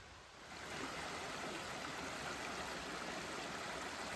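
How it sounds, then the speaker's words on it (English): Small mountain stream, a branch of a brook along the Appalachian Trail, flowing with a steady dense hiss and babble that swells slightly in the first half second, close and alone without talk. "Pretty little stream here."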